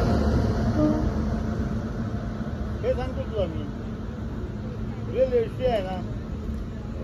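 Steady low rumble of a train to Mangalore in motion, continuous throughout, with voices talking over it.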